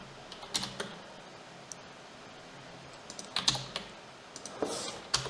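Typing on a computer keyboard while writing HTML code, with quick clusters of close key clicks separated by short pauses and no speech.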